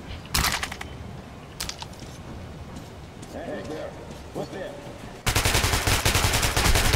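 Gunfire in the video game Metro: Last Light Redux: sharp single shots spaced apart, then a dense burst of rapid automatic fire at the end, with a voice talking throughout.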